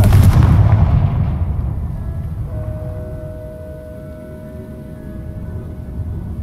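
A Confringo fire spell in Hogwarts Legacy explodes with a heavy, booming blast right at the start, then the rumble fades slowly into a low, lingering tail.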